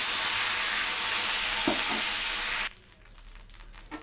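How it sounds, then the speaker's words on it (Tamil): Curry leaves, asafoetida and dried chillies fry in hot oil in a pan for karuvepillai chutney, giving a loud, steady close-up sizzle that cuts off abruptly near the end, leaving only faint background noise. "அதுக்கப்புறம் பெருங்காயத்தூள் அப்புறம் காஞ்ச மிளகாய் அதுக்கப்புறம் நம்ம எடுத்து வச்சுருக்க கருவேப்பில் எல்லாத்தையும் போட்டு நல்லா வதக்கிக்கிறணும்"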